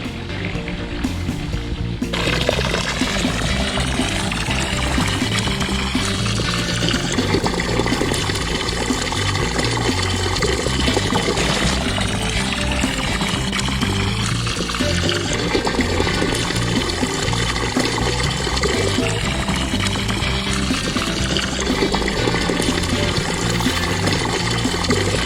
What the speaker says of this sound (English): I can fill the pool up to its proper level.